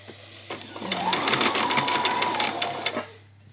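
A sewing machine stitches a back stitch while making a peasant top: one steady burst of rapid mechanical whirring lasting about two seconds, close and loud, starting and stopping cleanly.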